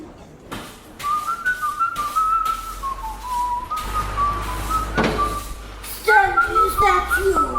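A person whistles a tune, a clear melodic line running through most of the moment with a brief pause, growing louder and more ornamented near the end, heard indoors against low background noise.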